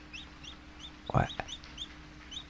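Chickens in the farming video game Dinkum cluck in a short, close burst with a few quick squawks, while soft game ambience and faint repeated chirps carry on around them.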